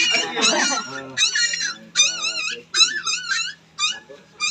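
A dog growls and whines in a string of close, loud, tonal bursts with short pauses between them, some drawn out and wavering like howls.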